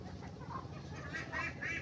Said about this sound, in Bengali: আমার 3টা চীনা হাঁসের বাচ্চা।